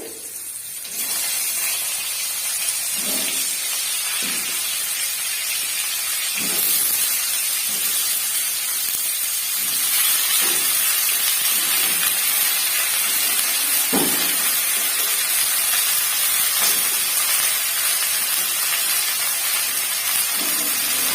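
Cauliflower pieces frying in hot oil in a home kitchen, a loud steady hiss and sizzle with bursts of spitting as pieces are dropped in one by one.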